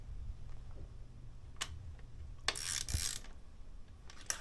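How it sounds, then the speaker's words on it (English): A torque wrench tightens a bolt on a RockShox SID mountain bike fork, with a few faint ratcheting clicks and sharp metallic ticks spaced apart, close by in a quiet workshop. "Now apparently it's supposed to go to 7 Newton meters, so I grab my torque wrench."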